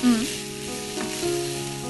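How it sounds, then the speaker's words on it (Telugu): Grated paneer and fresh grated coconut sizzle briefly in a hot pan, a close, continuous frying hiss with a faint stirring undertone. "పచ్చి కొబ్బరి తురుము అండి, పన్నీర్ తురుము కాస్త వేగనివ్వాలి"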